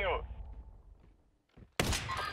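A sniper rifle shot in a video game cracks out loud and sharp, followed by a fading tail, then a second burst of loud impact noise.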